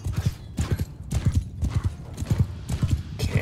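Hooves of a galloping horse clip-clop in a fast, steady rhythm during a Mount & Blade 2: Bannerlord battle, loud and close, with only a faint hint of whinnying.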